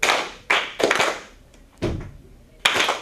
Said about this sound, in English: So we've got clap, clap, hand push, clap.